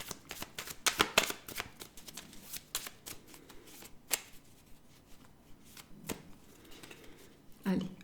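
Tarot cards being shuffled by hand, heard as close bursts of riffling and slapping card sounds with pauses between them, under a woman's speech.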